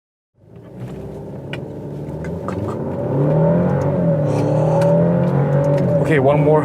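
A 2017 Alfa Romeo Stelvio 280 engine hums and builds in a steady rising drone while driving, growing louder midway, with a person talking over the cabin noise.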